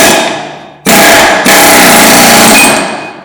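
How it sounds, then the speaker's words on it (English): Air chisel hammering off an old exhaust part on a BMW E36 M3, a loud rapid pneumatic rattle in two bursts with a brief pause between, close up and dominant, fading at the end. "Having an air chisel helps out a lot."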